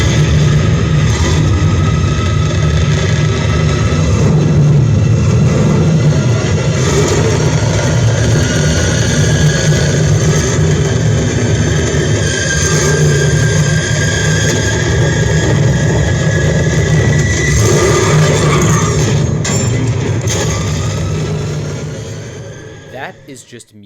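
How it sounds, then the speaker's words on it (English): A twin-turbo V8 engine roars continuously at close range, a deep rumble layered with a high turbine whine, sustained throughout before easing slightly at the end. "The screaming, twin turbocharged, rear-mounted V8 that's dedicated entirely to powering some kind of jet engine."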